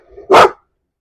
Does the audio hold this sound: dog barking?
yes